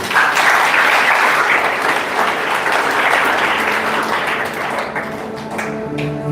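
A congregation at a healing revival service in a hotel ballroom breaks into sustained, loud applause, dense and continuous for several seconds before thinning slightly, with faint tonal music underneath.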